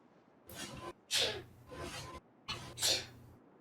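Two sneezes close to the microphone, each a quick sharp burst with a breathy intake before it, separated by a brief pause.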